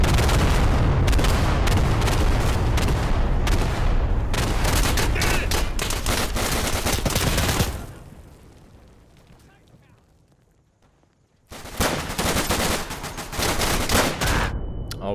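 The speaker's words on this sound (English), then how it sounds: "Oh, he grenaded me." Grenade blasts and rapid gunfire in the World War II shooter Day of Infamy: loud volleys of shots and booms, then a brief muffled lull before the firing bursts back in.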